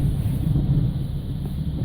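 Strong wind gusts sweep across a lake in Royal Palm Beach during Hurricane Irma, a steady, loud low roar buffeting the microphone throughout with no voices.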